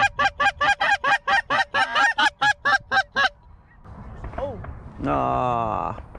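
A flock of geese honks loudly and rhythmically at close range, a rapid run of about a dozen calls, followed by quieter mixed calls and a drawn-out honk near the end.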